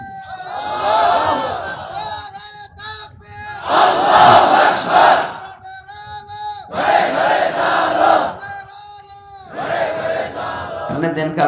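Crowd at a religious gathering roaring a takbir response, several loud bursts of massed voices rising and falling in waves, separated by brief lulls.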